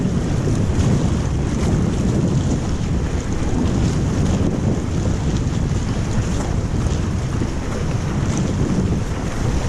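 A dragon boat crew paddles hard forward on open water. Loud, steady rushing of water and wind buffeting the microphone runs through the whole stretch, with no voices.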